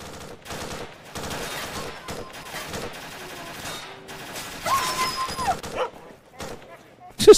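A dog in the video game S.T.A.L.K.E.R.: Shadow of Chernobyl barks in a rapid series of sharp yips, mixed with bursts of gunfire and someone talking throughout.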